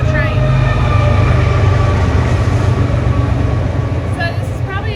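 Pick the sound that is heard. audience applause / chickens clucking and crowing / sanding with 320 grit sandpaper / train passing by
train passing by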